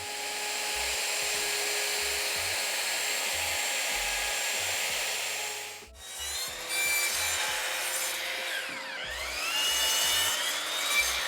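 A router fitted with a pattern bit cuts out the waste from a wooden backer board inside an oval while routing drawer pulls, giving a steady loud whine and rasp with a brief break partway through, then a change in pitch.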